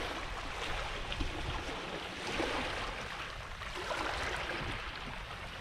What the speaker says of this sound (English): All I've got to listen to is this water lapping on the shore.